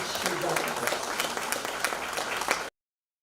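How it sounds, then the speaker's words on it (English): Audience clapping at a book launch, a moderate, steady patter of many hands lasting under three seconds before cutting off abruptly into silence. "I think he deserves a huge round of applause."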